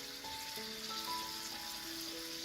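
Worcestershire sauce sizzles in a frying pan with shrimp and stir-fry vegetables, a soft steady crackling hiss heard alone at low level.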